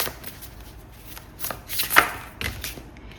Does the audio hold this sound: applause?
no